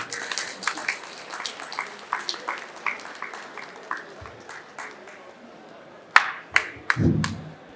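Scattered applause from a conference audience at the APPMAN National Conference, fairly faint and loosely spaced claps with a few sharper ones near the end, where a voice briefly breaks in.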